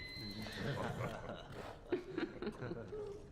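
A horse whinnies in a French film scene, a high neigh rising over people talking, followed by brief snorting sounds.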